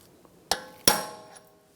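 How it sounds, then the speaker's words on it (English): A steel punch is struck twice with a hammer to peen over a CV axle nut on a 2009–2013 BMW 328i xDrive, two sharp metallic clangs close together, each ringing briefly before fading. "take a punch, and you just want to peen over the nut, just so it's not going to loosen up on you"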